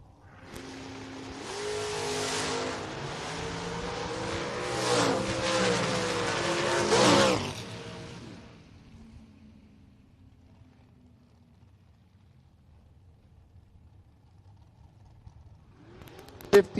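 A dragster and a Mustang roar down a drag strip at a bracket race, loud engines howling for several seconds before fading into distant quiet.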